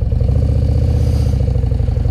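A 2021 Harley-Davidson Road Glide Special with a 131 Screaming Eagle V-twin kit revs loudly up close, a deep, steady, rapidly pulsing engine rumble with no talk over it.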